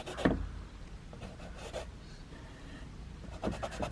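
Regular chalk drawn across a surface: a few short, dry scratchy strokes, one sharper stroke near the start and a couple more near the end, close and fairly quiet, alone.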